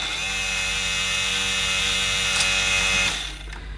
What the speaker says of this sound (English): we can turn on the simulated cyclonic action.